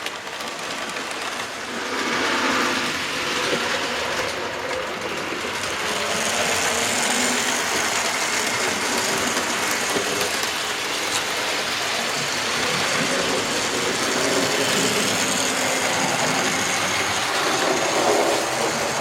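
A Triang B12 model locomotive on half throttle rolls over a model railway layout, passing a long crossing and an express point. It gives a continuous close rumble and rattle of wheels on track for about nineteen seconds, with no speech.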